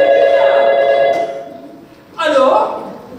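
A telephone rings during a parents' school theatre performance on stage, a loud steady bell tone that fades, followed by a brief voice and another burst of sound.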